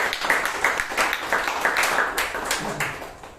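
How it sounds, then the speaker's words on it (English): Toastmasters club meeting audience in Bangalore applauding after a humorous speech, a dense steady patter of many hands clapping close by throughout, with no voices over it. "Please give him a huge round of applause"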